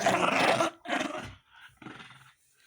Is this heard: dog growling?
yes